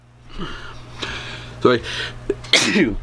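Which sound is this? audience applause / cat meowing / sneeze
sneeze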